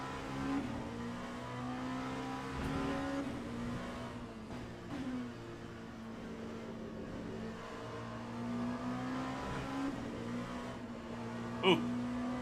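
A race car engine drones steadily in the Le Mans Ultimate racing simulator, holding a sustained tone with slight pitch shifts as the car runs, while someone talks briefly over it.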